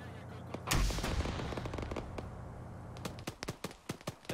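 Gunfire in a 1984-set military game: a loud burst of shots, then a rumbling stretch and a rapid run of sharp, separate reports close by, with no talking.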